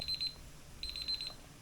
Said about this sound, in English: My 2-minute timer has gone off.